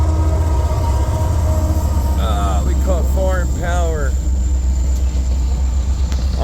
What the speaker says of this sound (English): On the southbound coal drag going to Kansas City, low foreign power.